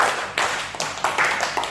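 Several sharp bursts of hand clapping in a loose rhythm, fairly close, with no talking over them.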